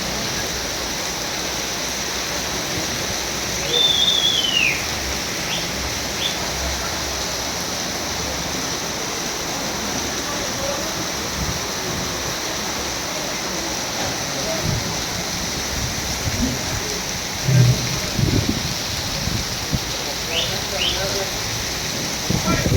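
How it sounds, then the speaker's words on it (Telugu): Heavy rain pours steadily over a vegetable market in Bowenpally, Secunderabad, a dense continuous hiss with occasional faint background sounds and a few distant bird-like chirps. "పొద్దునే ఫుల్ వర్షం తగులుకున్నది. ఇది తగ్గేటట్లేదు."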